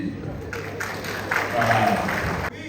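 Applause from a seated crowd at a staff gala dinner in Togo, a broad wash of clapping that swells in the middle and stops abruptly near the end, with a murmur of voices underneath.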